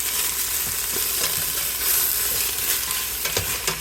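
Ground beef browning in a pan for goulash gives a steady, close sizzle with occasional scraping stir strokes throughout.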